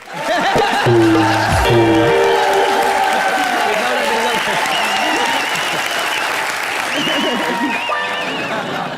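A studio audience at a comedy show applauds loudly and steadily for the comedian Suresh Menon, with a short musical sting and brief bursts of voices and whoops over the clapping.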